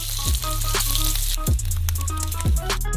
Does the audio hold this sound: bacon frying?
yes